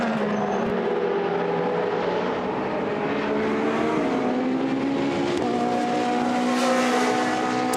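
GT race cars on the start-finish straight at Misano, engines roaring loud and close with rising and falling pitch as cars accelerate past, one after another, over continuous track noise.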